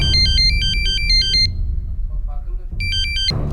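A mobile phone ringtone plays a bright, repeating electronic melody in two loud bursts, separated by a pause filled with low background noise.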